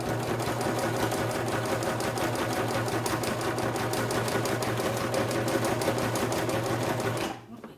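A sewing machine runs fast along a fabric edge in one continuous, evenly rhythmic stitching burst, loud and near, stopping abruptly just before the end.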